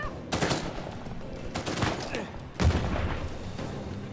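Gunfire from a weapon in the video game Uncharted 4: three sharp bursts of shots, each trailing into a rumbling decay, with loud, close reports and no other sound between.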